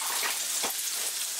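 Frozen dumplings frying in a hot pan, a steady soft hiss of oil with a faint crackle, close and quiet, with no talk.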